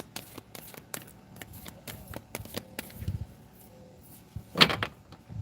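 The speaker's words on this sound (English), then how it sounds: "One more shuffle." A deck of cards is shuffled in a series of quick crisp riffles and flicks close to the microphone, followed by a few soft taps and handling knocks.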